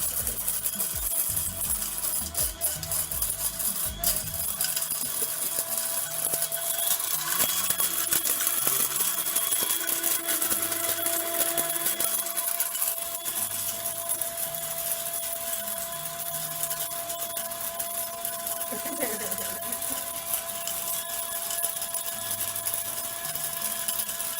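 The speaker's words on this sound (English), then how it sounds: "So I'm going to grind that up now. That's loud." Loud electric grinder pulverizing dried oranges, a continuous high whirring roar that runs steadily throughout at close range with no pauses.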